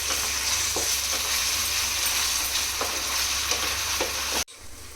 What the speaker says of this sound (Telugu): ఈ అల్లం వెల్లుల్లి పేస్ట్ కూడా పచ్చివాసన పోయే వరకు ఫ్రై చేసుకోవాలి